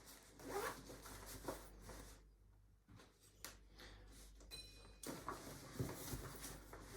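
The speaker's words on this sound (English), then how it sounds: "And then zip it into place." A zipper runs along the seat fabric of a Bumbleride Era stroller in several short, close rasping pulls, with a brief quiet gap before a final quick zip.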